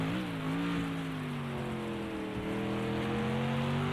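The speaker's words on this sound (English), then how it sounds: "you'll get a much better sense of the amount of rainfall by the rain droplets on the windscreen of the car" Rain patters steadily on the windscreen of a GT3 race car in Project CARS 2 at the Nürburgring GP circuit, a constant wash of droplets over a low, droning engine tone from the cockpit view.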